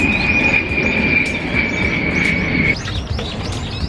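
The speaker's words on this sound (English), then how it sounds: "But there's a train there." A small tourist train runs along a park track, producing a sustained high-pitched wheel squeal and steady rumble for several seconds before it cuts off, with birds chirping around it.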